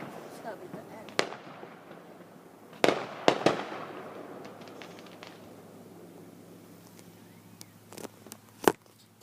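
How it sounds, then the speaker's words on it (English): Fireworks burst outdoors in scattered sharp cracks and booms, several clustered together, over a soft background hiss, fairly distant and moderate in level. "That's fireworks all over."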